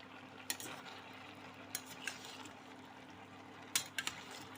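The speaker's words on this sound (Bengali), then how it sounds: "এবারে এটাকে নাড়াচাড়া করে নেব" A cook stirs cucumber malaikari in a pot, soft scraping and stirring with a few sharper utensil clinks against the pan over a quiet simmer.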